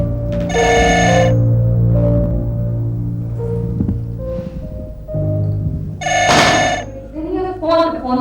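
A telephone rings in two short bursts several seconds apart, with people talking nearby between the rings.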